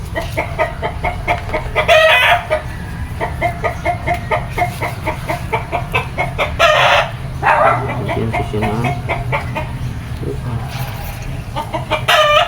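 Chickens cluck in a steady, repeated rhythm nearby, with a few louder squawking bursts breaking through the clucking.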